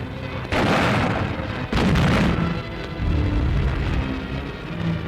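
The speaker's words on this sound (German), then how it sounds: "Deutsche Artillerie, stärkere Kaliber und Panzerartillerie beschießen angreifende Sowjetpanzer." German heavy artillery and tank guns fire in a few deep, rumbling booms about a second apart, distant and muffled over a constant wartime noise bed, with no voices.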